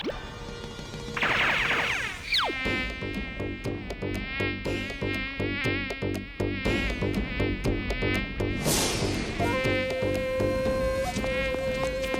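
A cartoon mosquito whines with a thin, high buzz over a busy animated soundtrack of music and sound effects, with no speech heard.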